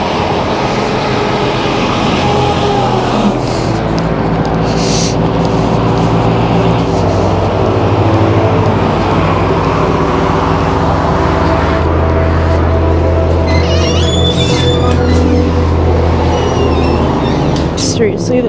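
Continuous heavy roar of highway traffic nearby, with vehicles rumbling and passing in waves, loud throughout with some voice-like sounds mixed in.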